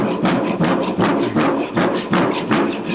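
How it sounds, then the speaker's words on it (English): A hand saw cutting through wood for furniture making, with steady back-and-forth rasping strokes at a brisk, even rhythm, close and loud, about six strokes with no talking. "So this is a picture of the saw I used to make my furniture."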